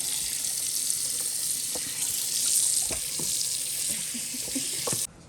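A cleaned Thanksgiving turkey is rinsed under a running kitchen tap, giving a steady close hiss of water into the sink with a few small splashes and clunks, stopping abruptly near the end.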